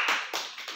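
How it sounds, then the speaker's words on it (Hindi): A few hands clap at a cake-cutting celebration, with loud, sharp claps coming in a quick, slightly uneven rhythm at close range. "तालियां बजा दे"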